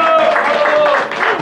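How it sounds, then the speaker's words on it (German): Audience applause on a stage at a German charity event for children, a short burst of dense clapping with a tonal voice or music line running underneath, loud and close throughout. "Euer Applaus."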